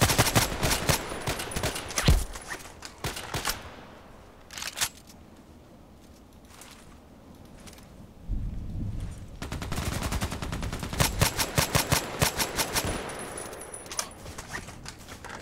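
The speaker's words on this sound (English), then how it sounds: "Very interesting sound of this gun is tuk tuk tuk tuk tuk tuk tuk" Rapid bursts of automatic fire from an SVU-AS automatic sniper rifle in the shooter game Contract Wars, loud sharp cracks in clusters with a quieter lull in the middle before firing resumes.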